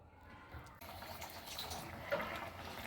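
Water poured into a simmering aloo vadi curry in a pan, a steady liquid splash and trickle that swells toward the end, close up with no talk.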